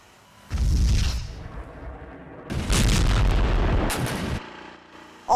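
Heavy explosions from air strikes, in the kind of footage shown in news reports, come as two long, deep, rumbling booms with broad roaring blasts. A quieter pause separates them, and no one speaks.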